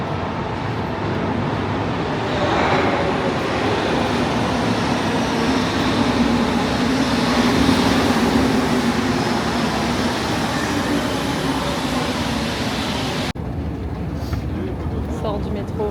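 Metro train at La Joliette station in Marseille, a steady loud rumble and rushing roar of the moving carriage that drops away abruptly near the end, with people talking over it.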